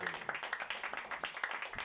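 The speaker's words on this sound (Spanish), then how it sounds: "Dale un aplauso, Señor." Church congregation clapping in steady rhythmic bursts, a dense, fairly close round of hand claps filling the hall with faint voices mixed in.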